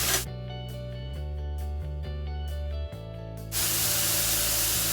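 Chicken breasts hit a hot grill, and a loud, steady hiss of sizzling takes over after a stretch of music, continuing close and unbroken to the end.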